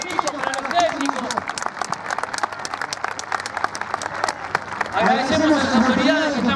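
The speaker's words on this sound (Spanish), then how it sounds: "Un fuerte aplauso para todos los hinchas" Crowd applause for club fans at a Club Don Bosco celebration in Zapala, a sustained burst of clapping from a sizable audience that continues for several seconds before a voice starts talking over it.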